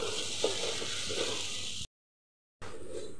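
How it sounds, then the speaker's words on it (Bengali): Tomato slices with salt frying in a pan for masoor dal bhuna khichuri, a steady close hiss of sizzling with faint stirring clicks, cut by a brief silent gap before the frying noise returns. "এখন আমি এটাকে ভাজতে থাকবো"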